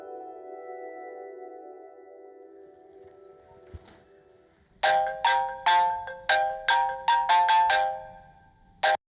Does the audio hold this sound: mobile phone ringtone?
yes